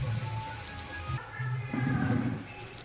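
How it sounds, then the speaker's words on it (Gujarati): Heavy monsoon rain pours down in Veraval and Sutrapada, Gir Somnath, a steady dense hiss of falling water that fills the whole clip at moderate loudness. "વેરાવળ અને સુત્રાપાડામાં ધોધમાર વરસાદ વરસી રહ્યો છે."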